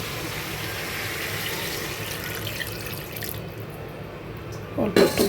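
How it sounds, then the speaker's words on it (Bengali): Water runs into a pot of braised duck curry, a steady tap-like pour lasting several seconds, then easing off before a few clattering kitchen knocks near the end. "হাঁস কষানো হয়ে গেছে, এবার এর মধ্যে পানি দিয়ে দিব"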